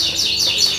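A canary being readied for song training chirps in a fast series of bright, high, slurred tweets, loud and close, with no talking over it.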